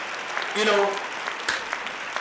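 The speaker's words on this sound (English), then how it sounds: "We got to clap." A few people clap in scattered, uneven claps during a casual discussion, with a voice speaking over the clapping near the start.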